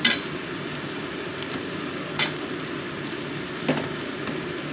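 Onion, chili and winter vegetables with salt and turmeric cook in a pan, giving a steady soft sizzle broken by a few brief stirring scrapes, close and moderate in level with no voices.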